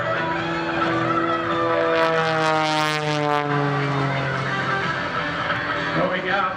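An aerobatic airplane at the 2021 Greenwood Lake Airshow, a loud droning propeller engine whose pitch sweeps and wavers as it passes and turns, with speech over it.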